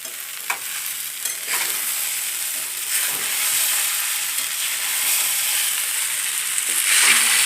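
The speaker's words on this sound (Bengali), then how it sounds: "এই সাবুটাকে সুন্দর করে নাড়িয়ে নিলেই বাস রেডি" Sago pulao is stirred and fried in a pan for an Amalaki Ekadashi offering. A bright, continuous sizzle rises as a spoon scrapes and turns the food in short strokes, close up and without talk.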